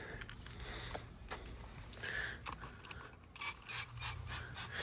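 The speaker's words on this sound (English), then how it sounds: "So we're going to spray it on here." Alchemist Brimstone wheel cleaner sprayed from a trigger bottle onto a car wheel, several short bursts of spritzing with clicky trigger mechanism sounds, close and fairly quiet.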